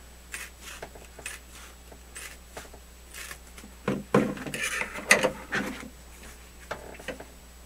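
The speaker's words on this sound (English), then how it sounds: "So I'll cut this piece here." Material cut for a DIY microphone reflection filter, giving scattered rustles and scraping cuts that build into a denser burst of crisp cutting noise, close and fairly quiet with no talking.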